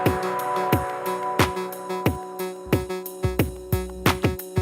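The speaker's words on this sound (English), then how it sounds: "Got a clap sound over the top here." Sharp clap hits from a Eurorack patch snap over a booming kick drum in a syncopated groove, with layered synth tones sustaining beneath the beat.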